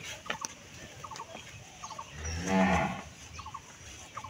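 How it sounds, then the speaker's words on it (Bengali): A well-bred dairy cow gives one loud, drawn-out moo in the middle, with short repeated poultry-like calls and faint farm noise before and after. "মাশাআল্লাহ, সেই সুন্দর একটা গরু। এটা হলো 1 নাম্বার। গরুটা দেখেন জাতের সেরা গরু।"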